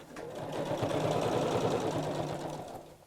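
A sewing machine stitches a rucksack, its motor whirring up into a fast steady needle clatter that runs loud and close for nearly three seconds, then winds down to a stop.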